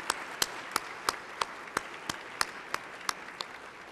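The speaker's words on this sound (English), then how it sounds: "how about giving them a warm round of applause again from the State House of Representatives?" A single pair of hands claps slowly and evenly, about a dozen crisp, well-spaced claps, close and distinct over faint room noise, in the State House of Representatives chamber.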